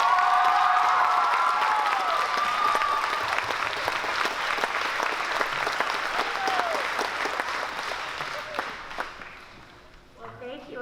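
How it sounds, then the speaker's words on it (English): An audience at a school production of Roald Dahl's Willy Wonka JR claps and cheers in a loud, sustained burst of applause that slowly thins near the end, with a few voices calling out over it. "Can we get one more round of applause for Mrs. Heath, please?"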